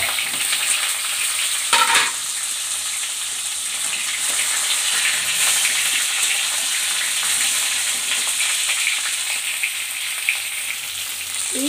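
Halved pointed gourd (potol) pieces sizzle steadily in hot oil, a dense continuous frying hiss with an occasional clatter of stirring near the start.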